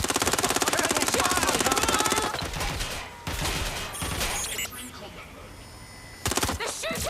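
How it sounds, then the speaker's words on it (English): Rapid automatic gunfire in the video game Watch Dogs: Legion, a loud dense burst of repeated shots followed by scattered impacts, crashes and further short volleys. "They're shooting!"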